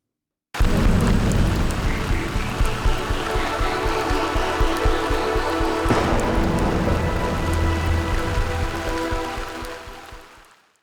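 Heavy monsoon rain in Mumbai pours down steadily in a loud, dense hiss of drops hitting surfaces, continuing without a break until it fades out at the end.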